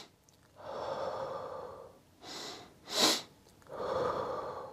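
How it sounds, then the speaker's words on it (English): A single person breathes close to the microphone: one long breath, then two quick sharp inhales in a row, followed by a long, steady, airy exhale. "a specific pattern of breathing that activates the parasympathetic nervous system, and it consists of a double inhale followed by a long exhale"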